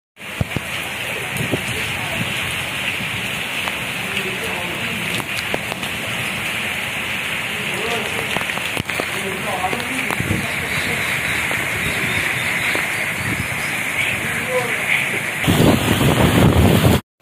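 Heavy rain pours down in a dense, steady hiss while strong wind buffets the microphone, growing louder and rougher in the last seconds.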